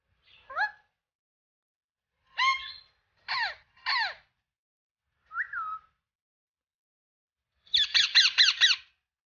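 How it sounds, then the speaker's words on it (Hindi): An Indian ring-necked parrot gives loud, harsh squawks in separate bursts, ending in a rapid rattling series of calls, with quiet between them. "ये एक शोर करने वाला परिंदा है जो काफी ऊंची आवाज में टें टें करता है"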